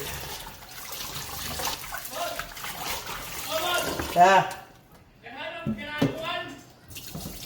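Tap water runs and splashes while raw chicken is washed by hand, a steady trickle with some louder splatters, mixed with a person talking.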